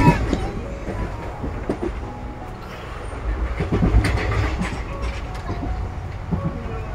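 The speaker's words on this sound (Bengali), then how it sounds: "ট্রেন ছুটে চলেছে ঝড়ের গতিতে" A train speeds along the rails overnight toward New Jalpaiguri, a steady rumbling roar with rhythmic clatter and occasional sharper knocks, loud and continuous throughout.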